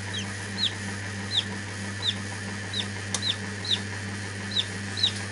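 A newly hatched chick inside an incubator gives faint, regular peeps about every half second or so over the machine's steady low hum.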